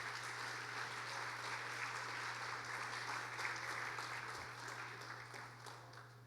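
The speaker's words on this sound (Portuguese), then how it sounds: "Aplauda Jesus bem forte." A church congregation stands and claps hard, a dense steady roar of many hands at a distance with a low hum underneath, fading slightly near the end.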